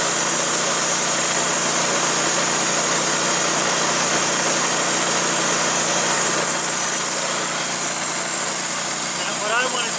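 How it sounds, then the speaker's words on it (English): Motor of a Woodmizer LT15 sawmill running, a loud, steady engine hum with constant vibration throughout, with a voice heard briefly over it. "Let me wind the motor up. So the motor's running."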